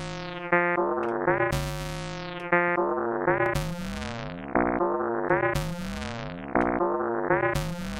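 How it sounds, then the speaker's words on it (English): An Elektron Analog Four synthesizer plays a looping sequence of buzzy, rubbery tones with swooping pitch glides, producing fart-like blurts in a repeating pattern about every two seconds, loud and alone. "it gets into the fart sound territory quickly"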